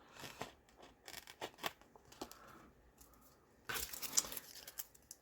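Scissors being cleaned in a craft room, with close, faint snipping clicks and scraping in irregular bursts, then a denser rustling stretch near the end.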